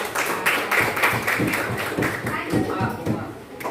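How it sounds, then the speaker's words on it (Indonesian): A group of participants in a teachers' training classroom clap their hands in a brisk, continuous patter at close range, with voices talking over it throughout. "Tepuk tangan dong buat kelompok kalian."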